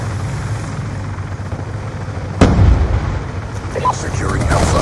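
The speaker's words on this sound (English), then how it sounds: "Friendly stealth chopper inbound." A stealth chopper in Call of Duty Black Ops II arrives with a low helicopter rumble, a sharp blast midway and scattered gunfire and effects after, alongside game voice callouts.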